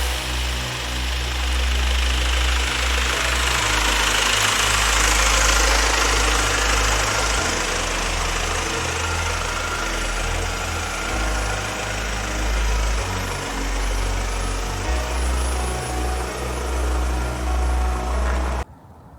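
A 2024 Mini Countryman JCW ALL4 with a 1998cc twin-turbo inline four-cylinder engine idles close by, a steady low rumble with slight shifts in level and no talk over it.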